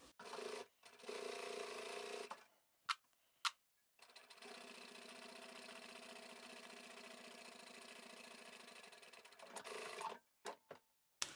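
A sewing machine stitching vinyl fabric runs in steady mechanical bursts, a long continuous run in the middle between short stop-start stretches. It is close and fairly quiet, with no one speaking.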